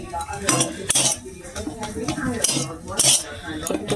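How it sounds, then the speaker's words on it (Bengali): Pea kachori filling stirred in a kadai with the gas switched off, loud close metallic scraping and clinking of a spoon against the pan in quick irregular strokes, with little sizzle. "একটু নেড়ে চেড়ে নামিয়ে দেবো।"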